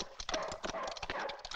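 Horses gallop past, rapid hoofbeats clattering in a quick irregular rhythm, fairly close and continuous across the short stretch.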